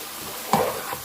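Spices being stirred into cooking keema make a sudden scraping stir over a soft sizzle, one short close stroke in a brief moment.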